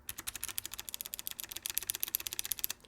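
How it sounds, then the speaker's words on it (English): A rapid run of crisp mechanical key clicks, close and fairly quiet, pressed steadily one after another with no voices. "You can actually hear a tactile click coming from these switches"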